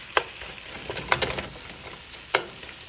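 Meat frying in bacon grease for a soup, sizzling steadily in the pan while a utensil stirs and breaks it into chunks, with several sharp scraping clacks up close.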